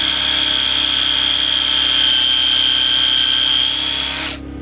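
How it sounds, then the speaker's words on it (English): A power drill fitted with a countersink bit bores into wood while framing raised garden beds, giving a loud, steady high-pitched whine close up that holds for several seconds before cutting off abruptly at the end. "So always use a countersink bit when you're doing stuff like this."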